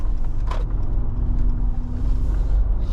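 From inside a 2022 Mercedes-Benz G 550 taken quickly through a corner, a loud, steady low engine and road rumble fills the cabin with no talking.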